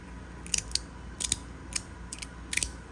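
A Fidget Boy fidget toy gives sharp, crisp clicks in small clusters of two or three, spread irregularly over a few seconds; close and fairly quiet against a low background hum.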